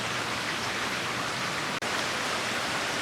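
Steady summer rain pouring down on a weather deck in Charleston, a dense, even hiss of drops on surfaces, continuous and fairly close with no voices.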